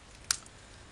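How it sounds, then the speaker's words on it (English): Scissors give a single quick, crisp snip while trimming scallops off a piece of paper, faint and isolated against a quiet room. "these 2 bottom scallops we don't need, so I'm going to just snip"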